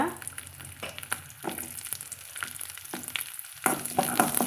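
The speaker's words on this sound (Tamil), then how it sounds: "அந்த எண்ணெயில் கருவேப்பிலை வேக சேர்த்திக்கலாங்க சேர்த்திட்டு அது கூடவே நம்ம சின்ன வெங்காயத்தை வந்து போட்டு வதக்கலாங்க" Curry leaves and small shallots frying in hot oil for a brinjal curry, giving a steady close sizzle broken by several sharp crackling bursts and stirring scrapes, louder near the end, with no talk.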